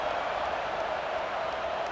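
A stadium crowd in the EA College Football 26 video game roars in a steady, dense wash of cheering and clapping, fairly loud and continuous throughout.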